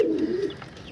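A single soft, low coo from an injured pigeon with a protruding bone, close and brief, fading out into quiet background.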